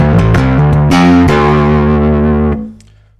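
An electric guitar through a distortion pedal on a recording pedalboard plays loud, saturated chords that change a few times, then rings out and fades quickly near the end.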